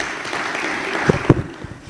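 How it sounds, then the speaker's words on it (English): A crowd at a youth forum in a hall applauds a speaker, a thin wash of clapping with a couple of sharper thumps, fading toward the end. "Another round of applause for Honorable Amisi."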